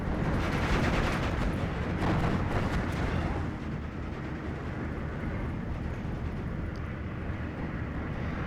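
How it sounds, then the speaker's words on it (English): Heavy 500 kg aircraft bombs detonating in Steel Division 2, a dense roaring blast with booming low rumble, loudest early then settling into a long sustained rolling roar. "I think he's bombing this. They're big bomb, 500 kilogram bombs, I think."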